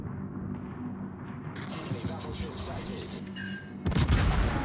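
Naval high-explosive shell fire from a Commonwealth cruiser in a World of Warships battle, a steady rumbling barrage of cannon booms under speech that swells into a loud, sharp burst of gunfire near the end.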